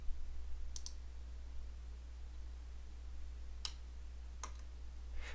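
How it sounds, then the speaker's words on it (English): Three sharp, quiet mouse clicks on a computer while working in Civil 3D, spaced irregularly over a steady low hum with no talking. "Go ahead and click on the alignment near this station."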